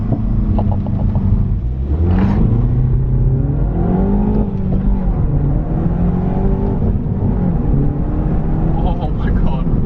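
A remapped Mini Cooper S launches hard and accelerates through the gears, its engine note climbing and dropping across several loud revving pulls with a rumbling cabin drone throughout.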